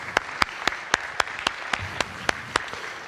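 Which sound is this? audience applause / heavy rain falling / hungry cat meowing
audience applause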